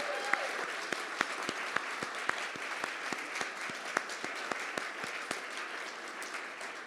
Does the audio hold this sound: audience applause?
yes